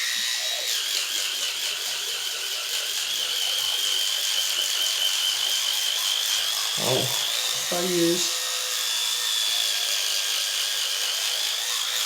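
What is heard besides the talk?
brushing teeth with an electric toothbrush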